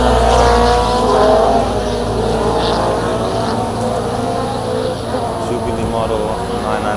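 Vintage cars pass at the Oldtimer Grand Prix at the Nürburgring in 2014, their engines a low, fairly quiet rumble beneath someone talking close by.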